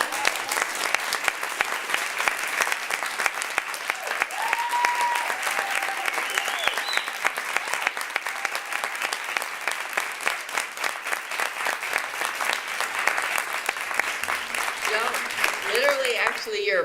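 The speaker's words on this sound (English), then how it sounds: "you're applauding yourselves" Sustained audience applause fills a congressional briefing room, steady dense clapping throughout with a brief voice rising near the end.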